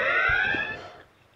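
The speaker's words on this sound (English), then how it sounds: "There's an alarm." In an amusement-ride simulator game, an alarm sounds a brief, loud, shrill ringing tone for about a second, then cuts off sharply.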